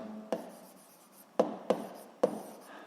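Pen or chalk writing a momentum formula: soft scratching strokes with four sharp taps as marks are made, close and quiet, no talking.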